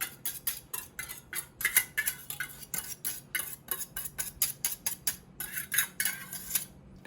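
A whisk beating sriracha into mayonnaise in a bowl to make aioli, quick rhythmic metallic clicks against the bowl in steady strokes, close and alone.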